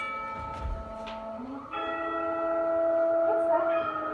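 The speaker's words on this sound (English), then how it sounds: "It sounds like a bell." A bell rings offstage during a middle school play, a sustained tonal chime with lingering harmonics that swells in the second half over faint room noise.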